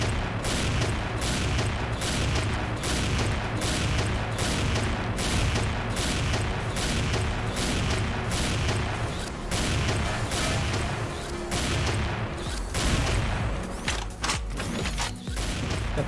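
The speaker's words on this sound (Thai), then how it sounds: "เรายิงอย่างนี้แล้วปะ" Dense, continuous gunfire from an XSHOT shooter match with sniper weapons, steady loud volleys and booming shots throughout with no clear gaps.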